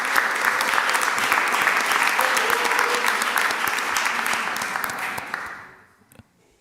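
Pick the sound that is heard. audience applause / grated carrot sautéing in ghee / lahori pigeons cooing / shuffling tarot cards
audience applause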